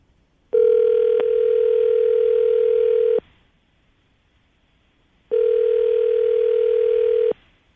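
A steady telephone dial tone on a radio morning show phone line, heard as two long unbroken bursts of about two and a half seconds each with a pause between, clear and alone with no talking.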